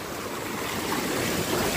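A steady, full rush of flowing water from a mountain stream in Lahaul, continuous broadband noise close to the microphone with no voices.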